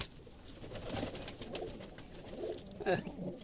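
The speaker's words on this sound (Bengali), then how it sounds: "এখন কবুতরগুলোকে খাবার দেব এই যে খাওয়ার জন্য কিছু কবুতর চলে এসেছে" Pigeons at a pigeon farm cooing softly nearby, several low, rolling calls spread through the moment, with faint background noise and no talking.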